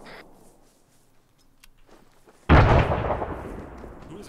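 A grenade in Arma 3 goes off midway, a single loud, deep blast that bursts in and then rolls off into a decaying rumble after a quiet stretch with faint background noise.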